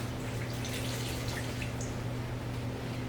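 Water trickles and drips steadily as a patient is rinsed during a bed bath, a soft continuous wet patter over a low background hum with no voices.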